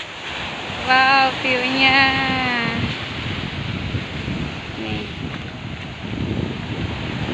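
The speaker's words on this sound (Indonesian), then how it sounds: "Dan ini langsung di tepi pantai ya" Waves and wind on the beach at Air Sanih in Buleleng, a broad continuous wash of surf and gusts that carries on after a short burst of excited talk.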